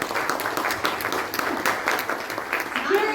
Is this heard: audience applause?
yes